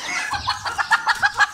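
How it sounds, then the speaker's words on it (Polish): A hen, newly bought and shown at a poultry exhibition, clucks in a steady series of about six short, close, fairly loud pulses with no talking. "Bardzo ładna kura."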